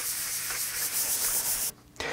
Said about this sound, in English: that's the most aggressive way to sand